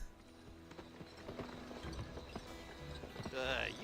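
Horse hooves clip-clop in a steady rhythm within the Western video game GUN, close and clear over a dense backdrop of game music and ambience, with a brief high whinny-like cry near the end.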